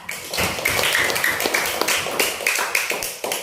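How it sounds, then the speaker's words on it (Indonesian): A classroom of students claps for a classmate in a short burst of rhythmic, fairly close claps with voices chanting along in time, several sharp hits spaced evenly across a few seconds. "Tepuk tangan untuk Nazwa."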